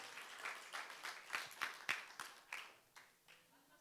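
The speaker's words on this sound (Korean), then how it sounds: "우리 다시 한번 박수 크게 쳐주세요" Applause from a church youth group at a Sunday worship service, a scattered ripple of individual claps that thins out toward the end, moderately distant and fairly quiet.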